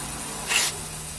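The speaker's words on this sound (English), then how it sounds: "hold down the toggle switch so the injector is open. So the injector is actually open, and spray carb cleaner." Carb cleaner is sprayed into an open fuel injector during a stuck-injector repair: a single short, sharp aerosol hiss of about a quarter second over a low steady background hum.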